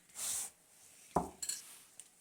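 Milk powder, instant yeast, salt and sugar are stirred together in a bowl for homemade pizza dough, heard as a soft scrape followed by a few distinct clinks of a utensil against the bowl.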